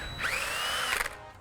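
A power drill with an 8mm bit enlarges a hole in an aftermarket composite part for a C7 Corvette Stingray, giving one short whining spin-up that rises, holds and cuts off, faint and close.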